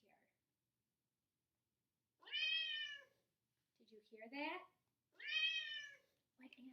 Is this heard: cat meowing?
yes